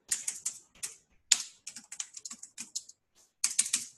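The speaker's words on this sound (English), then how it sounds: "Typing in." Rapid bursts of keystrokes on a computer keyboard, crisp clicks in irregular runs with short pauses, close and fairly quiet.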